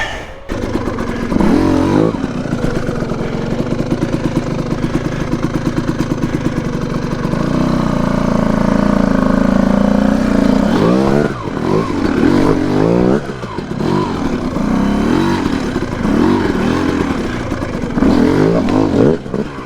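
A 2022 TM EN300fi dirt bike engine revs while being ridden, loud and close, with a steady buzzing drone rising into repeated throttle blips and surges, plus some rattling over the rough running.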